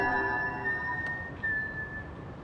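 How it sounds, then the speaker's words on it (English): A character whistles in Assassin's Creed Origins, a soft, clear tune of sustained tones drifting over quiet ambient background, faint and alone. "Nice whistling."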